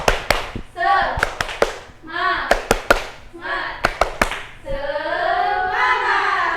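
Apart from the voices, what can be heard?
rhythmic 'tepuk semangat' spirit clapping by class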